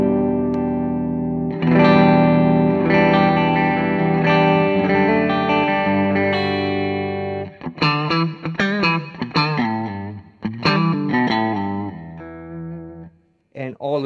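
Electric guitar through a Friedman IR-X dual tube preamp pedal with the bright switch flicked left, a loud driven tone that opens with sustained chords and then moves into choppy, rhythmic riffing with short gaps.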